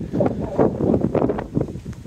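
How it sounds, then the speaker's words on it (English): Strong gusts of wind buffet the microphone in uneven bursts, a rough, rumbling roar that comes and goes. "Oh god, it's so windy, you probably can't even hear what I'm saying"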